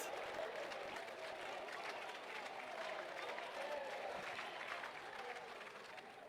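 Sustained applause in a parliament chamber during a debate fills the whole stretch, dense and even, with many hands clapping at once and a faint murmur underneath.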